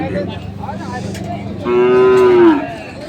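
Sahiwal bull calves at a crowded cattle market give a loud, sustained moo lasting about a second, rising out of steady market bustle and background chatter.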